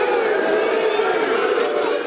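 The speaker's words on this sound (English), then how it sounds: "the crowd roars" Crowd inside a wrestling arena roaring and cheering, a sustained dense wall of many voices at close range with no break.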